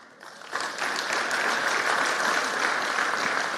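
An audience at a forum breaks into applause that swells quickly from a quiet start and then holds as a steady, dense wash of clapping for several seconds.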